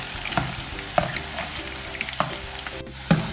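Pre-cooked beef 65 pieces fry in a pan, a steady sizzle broken by clacks of a utensil turning and stirring the meat, close and fairly loud, with no talking.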